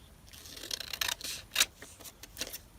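Scissors snipping paper tabs for a junk journal, a few quick crisp cuts with soft rustles between, close and quiet.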